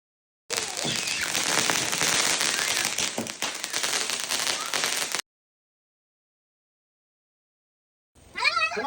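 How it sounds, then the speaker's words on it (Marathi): Diwali firecrackers on Lakshmi Puja night in Kerala crackle and burst in a dense, loud, continuous volley for about five seconds. After a sudden silence, another burst of crackling starts. "फटाके नाही वाजवले किंवा उडवले तर दिवाळी कसली नाही का."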